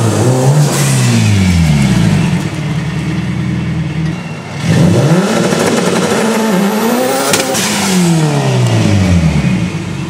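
A car engine revs hard in repeated bursts on a two-step launch control at a drag strip, rising and falling sharply, with a loud launch surge and brief tire chirp, no voices.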